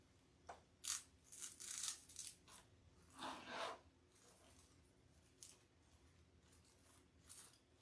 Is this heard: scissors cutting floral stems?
yes